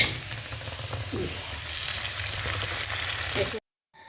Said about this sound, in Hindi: फाइनली छौंक दी हूँ, इसमें थोड़ा सा धनिया का पत्ता डाल दी हूँ।